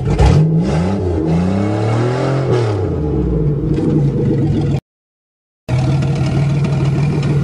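A Buick Regal engine running after a no-start repair, loud and close, revving with rising and falling pitch, then cutting out briefly before resuming a steady run.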